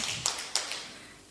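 Two sharp hand claps, about 0.3 seconds apart, from a school class doing a clap routine in an Al-Quran Hadith lesson, faint and set in a quiet room.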